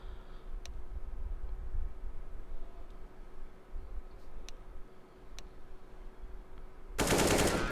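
A Galil rifle fires during a CS:GO match: a few sharp, isolated cracks over a low rumble, then a loud, dense burst of gunfire at the very end, with no talking.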